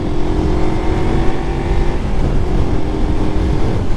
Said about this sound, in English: there's obviously the sound of the bike and cars and everything, and wind